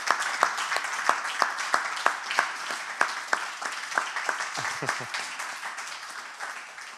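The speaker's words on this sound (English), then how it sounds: "I just want you to get applauded for all the work that you've done." An audience at a workshop applauds, steady scattered claps building into a moderate round that gradually thins and fades out, heard from within the room.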